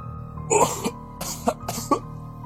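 Dry coughs echo from inside the house of the late Mbah Darmo, several short rasping bursts spread across a couple of seconds, fairly close and reverberant with no speech.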